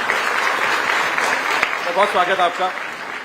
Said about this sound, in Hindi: मैं चाहूंगा जोरदार तालियों से स्वागत करें।